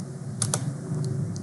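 Keystrokes on a computer keyboard as an IP address is typed while configuring a Cisco AP541N wireless access point: a few sharp, close clicks in an uneven rhythm over a steady low room hum, no voices.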